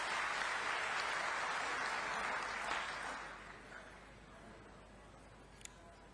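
A crowd claps loudly at a political rally; the dense applause holds strong for about three seconds, then thins and fades to scattered claps.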